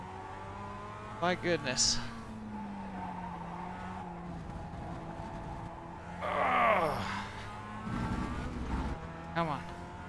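A race car drifts around the Okayama circuit in a sim-racing game, its tires squealing in long rising and falling wails over a steady engine drone, with louder squeals near the start and the middle. Someone speaks briefly.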